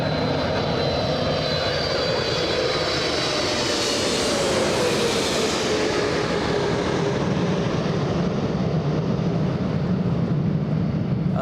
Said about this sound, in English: Enjoy the sound of the G90s.